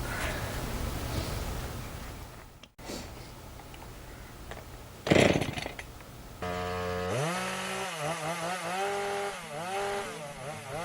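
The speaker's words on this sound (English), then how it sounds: "the chainsaw kept on stalling because I wasn't revving it enough" A chainsaw idles and sputters, stalling from too little revving, then after a short burst of noise it revs up and cuts wood with a loud, wavering engine whine.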